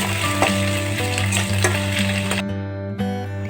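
Paneer with ginger paste and sliced tomatoes fries in a pan, a dense close sizzle with a low hum and periodic scraping clicks from stirring, cutting off abruptly near the end.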